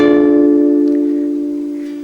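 One guitar chord, strummed once in a tuning lesson, sustains clearly and decays gently over two seconds, with no voices over it.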